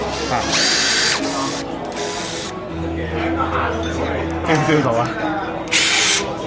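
A Worx power drill whirs in short bursts as its trigger is pressed and released, producing several whining pulses of varying speed at close range, with people talking over and between them at a product launch event.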